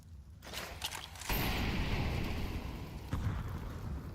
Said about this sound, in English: Shiro chucks the incendiary